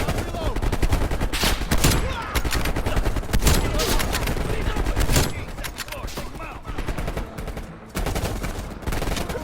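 Dense, loud gunfire from the video game Call of Duty: Black Ops Cold War, with rapid automatic bursts and heavy shots firing almost continuously and close by for the whole stretch.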